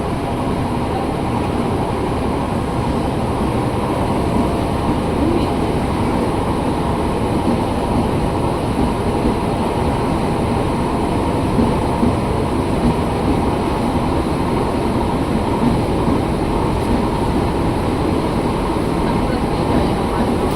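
A KRL Inka commuter train on the Bogor line running past, a loud continuous low rumble with steady rail noise and no clear clicks throughout.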